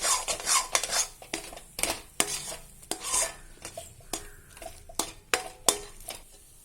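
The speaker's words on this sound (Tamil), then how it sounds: "கோவா சேர்த்து நல்லா மிக்ஸ் பண்ணிக்கலாம்" Spoon scraping and stirring khoa into bread halwa in a metal pan, with repeated sharp clinks and scrapes in an uneven rhythm over a faint sizzle, close up and moderately loud with no talking.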